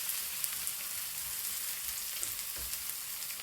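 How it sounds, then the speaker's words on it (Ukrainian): Onion frying in rendered fat in a pan after meat has been browned, giving a soft, steady sizzle with faint crackles throughout, heard alone without talk. "на цій же сковороді в цьому жирку обсмажую цибулю"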